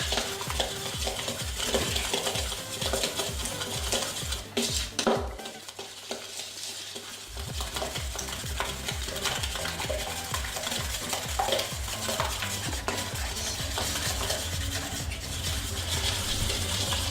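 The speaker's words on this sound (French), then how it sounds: "Vous mélangez énergiquement si vous pouvez, bien sûr." A spoon beats cookie dough vigorously in a bowl, making a fast, even scraping rhythm that runs throughout, stops briefly around the middle, then resumes at the same brisk pace, loud and close.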